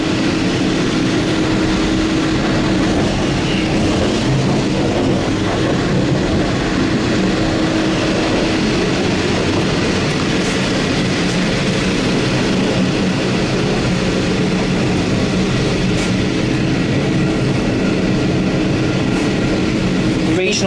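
Steady rumble and rattle of a broad gauge railway carriage in motion on Melbourne's regional rail system, heard from inside, continuous and loud throughout with faint rhythmic clatter and no talk.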